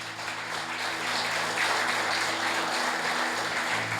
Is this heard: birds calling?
no